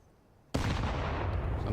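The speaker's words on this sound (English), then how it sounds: "Another decent nade." Grenade blast in Counter-Strike, a sudden loud explosion that stays as a sustained roaring wash after a quiet start, close and heavy, with no clear talk.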